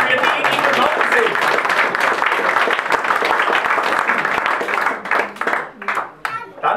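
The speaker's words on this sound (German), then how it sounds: "Also, Applaus für die, die gekommen sind." A crowd applauds at the opening reception of the art exhibition "1001 Nacht", with dense, steady clapping that thins into scattered claps near the end.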